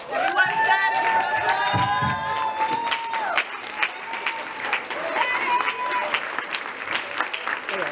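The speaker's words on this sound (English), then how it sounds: "I ask you to stand and give her an applause" A crowd applauds loudly and continuously, with cheering and whoops mixed in over the dense clapping.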